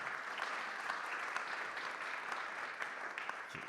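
Steady applause from an audience at a French organised event day, a continuous dense patter of many hands clapping at moderate level throughout.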